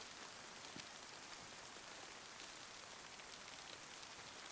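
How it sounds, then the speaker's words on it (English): Rain pours in the survival game DayZ, a dense, even hiss of drops that holds steady and alone with no voices. "That rain to help mask our footsteps and mask us because it's raining."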